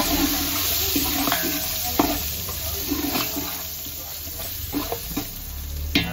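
Tempering sizzling in a cooking pan for a jackfruit vegetable dish, a steady close hiss of hot oil with scattered scraping and stirring knocks throughout, no voices.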